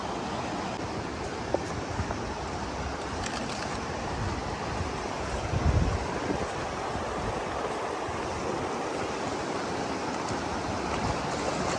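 Steady, broadband rush of the Mewa river flowing at a confluence where a fishing weir is being built, a continuous close wash of water with faint wind buffeting and no voices.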